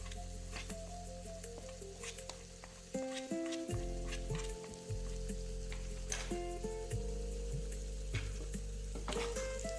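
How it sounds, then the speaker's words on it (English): Chili powder stirred into a sizzling tadka pan for dal palak, a continuous close frying hiss with occasional scrapes of stirring, under a steady background hum and faint tonal music. "Add the remaining chili powder to the pan and mix it well."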